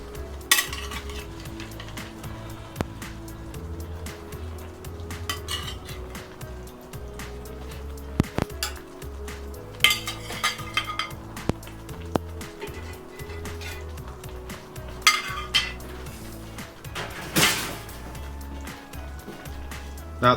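Cod pieces go back into simmering tomato sauce in a cast iron skillet, with clinking utensils and pan knocks, scraping, and a soft low bubbling that runs steadily throughout.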